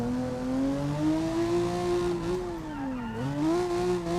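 Screaming 1.6-litre V6 of a max power bodied MX3 in the BeamNG driving game, a loud, steady high-revving engine note that climbs, dips briefly around a shift, then rises again with no talk over it.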